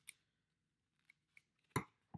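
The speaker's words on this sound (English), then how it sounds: "So I'm going to cut just a wedge out with my scissors." Scissors snip a wedge out of material for a homemade muted drumstick, a few quiet, sparse clicks and cuts, ending in one sharper, louder snip in a quiet room.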